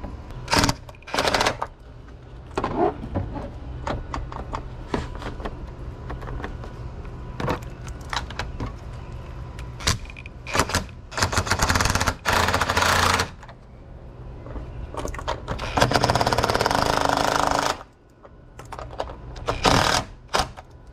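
Tightening a radiator bolt on a Ford Mustang produces bursts of rapid ratcheting and clicking, loud and close, in irregular runs separated by short pauses and softer handling noises.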